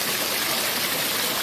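Several waterfalls splashing into a screened-in backyard pool with a small grotto, heard alone as a steady, close, broadband rush of falling water with no breaks.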